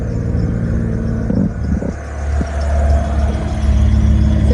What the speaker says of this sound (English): Sounds good coming out of that exhaust though.